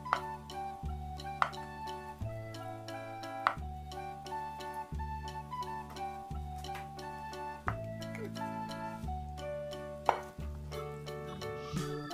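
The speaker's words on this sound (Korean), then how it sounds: "작은 큐브 모양으로 썰어줍니다" A knife cuts blanched, dried Spam into small cubes on a board, with a series of quiet, regular chopping taps over soft background music.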